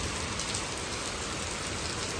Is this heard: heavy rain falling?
yes